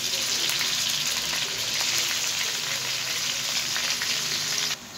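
Minced meat frying with softened sliced onions in a pan, a loud continuous hissing sizzle close up with faint stirring, dropping off slightly near the end; no speech.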